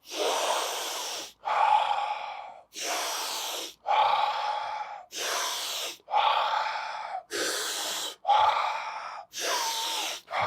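Deep, forceful Wim Hof–style breathing repeated in a steady cycle, roughly ten loud rushing breaths in and out, close to the mic with no talking.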